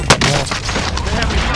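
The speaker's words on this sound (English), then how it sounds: "Receiving hostile fire." Gunfire in the Call of Duty: Modern Warfare video game, opening with a loud close shot followed by a steady crackle of more distant rapid fire, as players talk over it.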